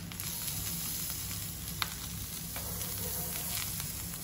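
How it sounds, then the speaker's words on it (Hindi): Butter sizzling steadily in a hot pan around a besan (gram flour) dosa as it fries, a continuous close crackle with no talk. "और अब साइड से हमें थोड़ा थोड़ा बटर छोड़ना है"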